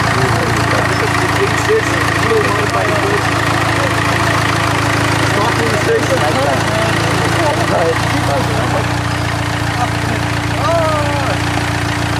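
A Galant VR4 turbo engine idles steadily and loudly up close to cool the turbo, its low rumble constant throughout while a voice talks over it.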